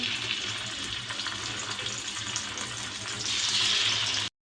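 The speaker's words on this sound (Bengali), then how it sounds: "এই যে মাছগুলো দিয়ে দিতেছি।" Fish frying in oil on a tawa, a continuous hissing sizzle that grows louder toward the end before cutting off.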